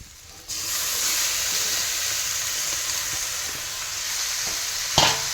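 Boiled pui greens drop into frying spice paste in a pan and a loud steady sizzle starts at once, continuing close up with a small clatter near the end.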